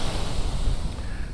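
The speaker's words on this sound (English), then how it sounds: "Now we got a little bit of swell." Ocean swell rolls in at a California beach, a steady broad wash of surf with wind noise and no distinct breaks, loud and continuous throughout.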